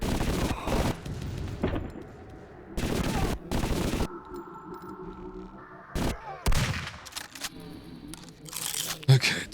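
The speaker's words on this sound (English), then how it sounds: "It's easiest to do with the machine gun here" Machine gun fire in the video game Zortch comes in several loud, dense bursts of rapid shots separated by short gaps, with someone talking between and over the bursts.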